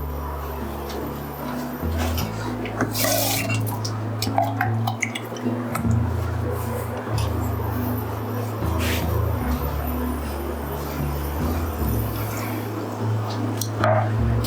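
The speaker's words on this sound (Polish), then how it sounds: "Puszkę od pomidorów oczywiście e, zalewam wodą" Water poured into an empty tomato can, a sustained splashing and sloshing with low rumbling surges and a few sharp clinks, close by and without talk.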